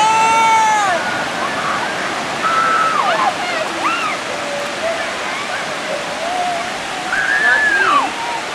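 Water washing in on a beach shore, a steady broadband rush of surf swelling and easing, with voices chattering and calling out over it throughout.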